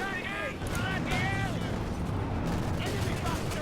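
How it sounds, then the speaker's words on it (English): Mortar rounds land on German Grenadier infantry in a Company of Heroes 2 match, heard as a dense, continuous roar of artillery and gunfire, with a speaking voice running over the battle noise. "Mortars are being dropped on the Grenadiers."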